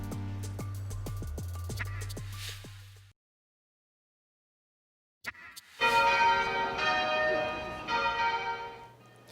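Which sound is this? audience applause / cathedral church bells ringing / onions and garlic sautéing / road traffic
cathedral church bells ringing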